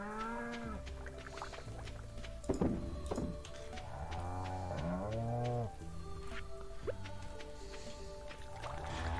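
Cows in the Stardew Valley farming game moo in several drawn-out, tonal calls over a busy game soundscape with soft thunks.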